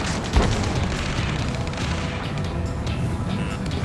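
Battle in Ace Combat 7: Skies Unknown, with a sharp blast early on followed by rumbling explosions and gunfire under a dense, continuous din of combat.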